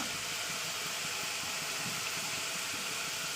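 Chopped bottle gourd and potato are stir-fried in hot spiced oil, a steady, even sizzling hiss that stays close and moderately quiet without any speech.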